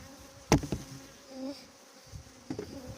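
Honeybees hum around an opened hive, a faint steady buzz with a few close, brief bursts and louder passes near the listener.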